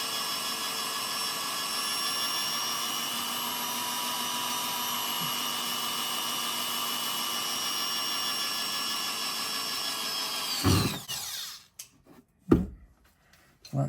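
A power drill bores through a BMW fender being trimmed to fit wide tires, a loud steady whine running for about ten seconds before stopping abruptly, followed by a few short bursts and handling noises.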